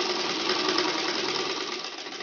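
A sewing machine stitches the pocket of a panjabi, a continuous close mechanical whir with a fast, even needle patter throughout the short burst.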